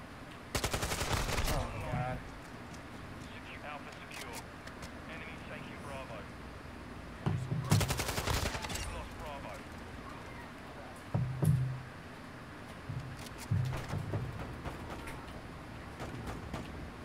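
Gunfire in Call of Duty MW2: short loud bursts of automatic fire, with one opening volley and several later rattling bursts spaced between quieter game noise, while a player talks.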